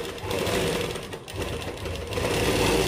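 A sewing machine runs steadily, stitching the neckline of a plain-fabric kurta, its motor a continuous close whirr that dips briefly near the middle before resuming.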